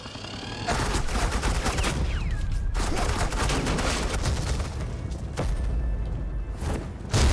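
Sustained suppressing gunfire in Batman: The Enemy Within, a loud steady barrage of rapid shots that runs almost the whole time, with a few brief gaps and a thud near the end.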